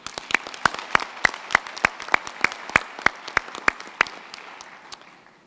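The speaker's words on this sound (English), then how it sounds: "this deserves another round of applause" Scattered applause in a hall at a university winter graduation ceremony, individual sharp claps standing out over a softer crowd wash, thinning and fading out by the end.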